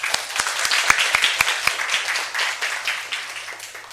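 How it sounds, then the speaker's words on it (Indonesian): Classroom applause for a student who has just answered, a short burst of many hands clapping close by with sharp individual claps standing out, fading slightly toward the end. "Ya, aplaus buat temennya."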